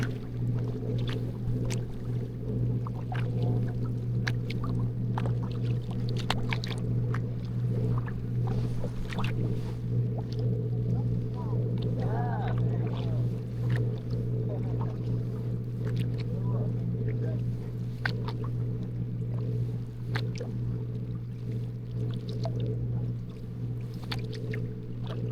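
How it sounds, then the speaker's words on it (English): Small unpowered boat with a non-working rudder rocking on the water, a steady low rumble and wash of water and wind running continuously throughout, with occasional soft knocks and faint voices underneath. "You're rocking the boat pretty good."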